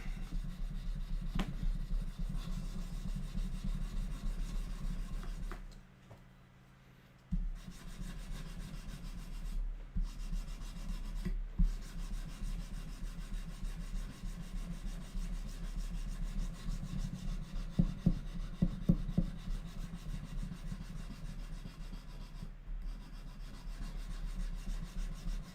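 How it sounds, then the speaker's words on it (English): Steady hand sanding of a knife blade lubricated with WD-40, a continuous scratchy rubbing that runs almost unbroken for the whole stretch, pausing briefly once, with a few sharper scrapes toward the end and no talking. "I'm using WD-40 as sanding lubricant."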